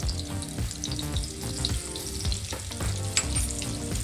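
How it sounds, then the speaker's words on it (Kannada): Potato chunks fry in hot oil with salt, chilli powder and turmeric for Karnataka-style aachaari aloo, giving a continuous close, even sizzle with soft crackles and no voices. "ಸೊ ಇದಿಷ್ಟನ್ನು ಸ್ವಲ್ಪ ಒಂದು ಲೇಯರ್ ಆಗೋ ತನಕ ಇದು ಫ್ರೈ ಆಗಲಿ"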